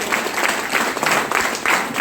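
Audience applause at a business meeting, a steady, dense roar of many hands clapping close by with no gaps.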